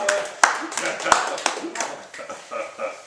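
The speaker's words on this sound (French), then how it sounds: "On applaudit quand Jupiter applaudit." An audience at a European Latin and Greek theatre festival gives a few sharp, separate claps mixed in among spoken lines from performers.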